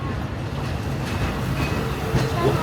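The Walt Disney World Railroad train runs along with a continuous close rumble and faint clickety-clack of its cars, with a few soft squeaks near the end.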